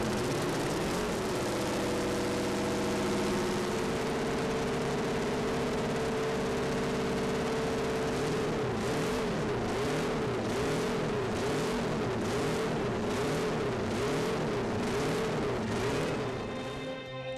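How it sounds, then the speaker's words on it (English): Classic Honda RC160 four-cylinder race motorcycle engine running on a stand, a high buzzing drone that rises and falls in rapid, repeated revving waves, sustained and fairly strong, with no one talking. "The sound of 4 small cylinders firing at incredibly high speeds."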